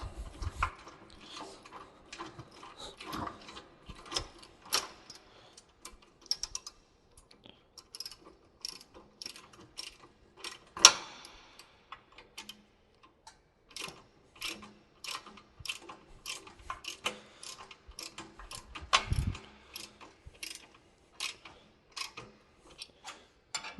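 Bolts are being tightened on a tractor sickle bar mower during setup: a long run of crisp ratchet clicks in quick bursts with short pauses, close and fairly quiet, and one louder metallic knock midway.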